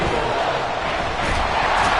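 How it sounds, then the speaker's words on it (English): A stadium crowd in the Madden 24 football video game roars in a dense, constant wash of cheering and noise, loud and unbroken throughout. "This crowd turning up the decibel level."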